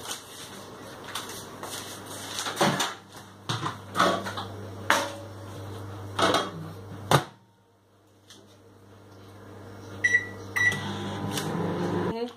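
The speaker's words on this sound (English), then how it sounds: "we're going to put it in a microwave just to melt" A microwave oven melting chocolate, its steady low hum running under clunks and clicks of the door and buttons, then a brief pause and a few short beeps before the hum resumes.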